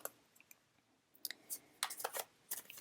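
A Rider-Waite-Smith-style tarot deck is shuffled, with faint, close, soft card flicks and riffling bursts coming in short clusters, no voice.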